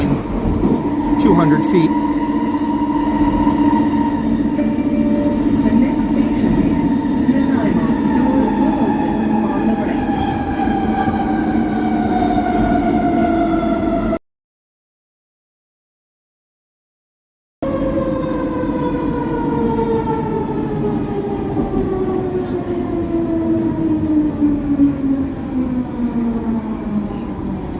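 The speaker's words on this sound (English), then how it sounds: "We're on an elevated train." Inside an elevated Skytrain on a ride: a steady rumble with a tonal motor whine that slides down and rises again as the train slows and speeds up. The sound cuts out briefly partway through, and people talk over it.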